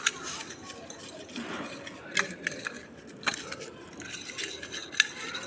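A spoon stirs Dairy Milk chocolate with salt and chili powder in a bowl, giving scattered scraping and sharp metallic clinks against the dish over a low background hum.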